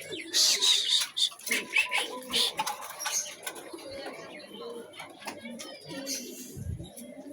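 Pigeons coo softly in a loft during rain, their low calls mixed with occasional wing flaps and a steady wash of rainfall, with a person talking at times nearby.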